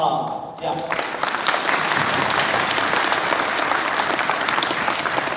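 An audience applauds at a secondary school band concert, steady dense clapping that starts after a brief pause and carries on evenly, filling the hall.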